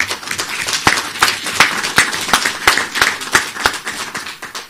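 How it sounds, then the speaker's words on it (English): Modest clapping from a small press audience at an electricity-supply briefing, distinct individual claps in an uneven rhythm, close and fairly loud, with no talking. "So can I ask you to join me in applauding them?"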